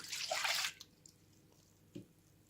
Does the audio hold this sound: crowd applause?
no